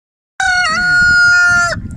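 A rooster in a farmyard crows loudly and close by, a single sustained cock-a-doodle-doo of about a second and a half, with faint farmyard noise beneath.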